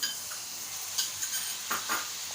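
Prawns being stirred into masala in a pan over low heat, with a soft ongoing sizzle broken by a few light scraping and tapping strokes of a utensil, nearby and without speech.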